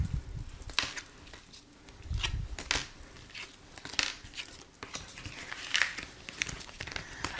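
Tarot cards are shuffled and drawn, making soft, irregular riffling, sliding and light slapping sounds at close range and low volume, with no talking.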